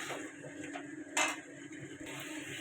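Fried potatoes stirred with spices in a pan for an okra, potato and fish curry: soft continuous sizzling hiss with light spatula scrapes, one brief louder scrape near the middle, fairly quiet.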